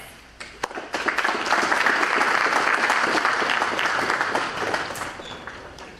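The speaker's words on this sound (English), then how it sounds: "You might as well clap, it'll get awkward." Audience applause at a high school scholarship and awards night, building from a few scattered claps into steady, fairly close clapping that holds and then eases slightly toward the end.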